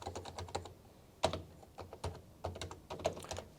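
Typing on an HHKB Professional Hybrid Topre keyboard, close and fairly quiet, with an irregular run of soft muted keystrokes and a few louder thocks standing out, no voices.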